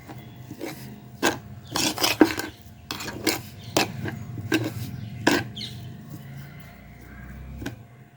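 Rice flour batter being mixed by hand in a metal vessel, close rubbing and scraping strokes in an irregular rhythm, with a few sharper slaps, fairly quiet.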